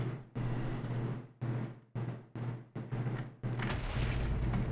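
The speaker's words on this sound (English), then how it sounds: "I don't know what keeps exploding" Repeated heavy explosions from the Minecraft Regrowth modpack, a run of loud booming blasts with short silent gaps between them, ending in a longer rumbling blast, no talk over them.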